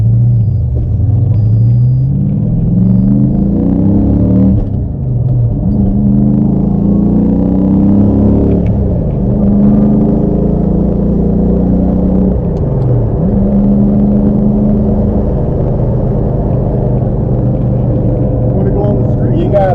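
A deep, rumbling Cleveland V8 engine in a 1972 De Tomaso Pantera drones continuously, with gear shifts and revs rising and falling while people talk over it.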